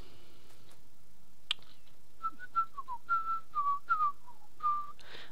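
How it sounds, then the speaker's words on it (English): A person whistles a short tune of about ten notes, clear and fairly close, with faint clicks and a quiet background hum. "I don't know why I'm whistling that."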